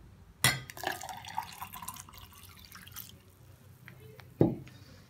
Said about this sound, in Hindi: इसमें हम डालेंगे नीम गर्म पानी